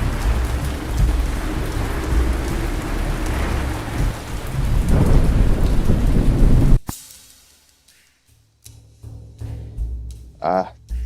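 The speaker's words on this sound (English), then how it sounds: "what a storm" A heavy thunderstorm roars with steady loud rain and deep rolling thunder. It then cuts abruptly to near quiet, broken by scattered knocks and a brief tonal sound.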